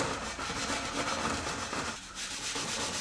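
A scuff pad rubs in a continuous close scratching rhythm across the rough, corroded surface of a ZF 6HP26 transmission case from a Jaguar S-Type, with a brief pause before the strokes resume.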